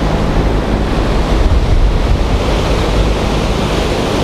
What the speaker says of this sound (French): toutes les vannes sont ouvertes pour laisser passer l'eau sale du lac des Deux-Montagnes vers l'est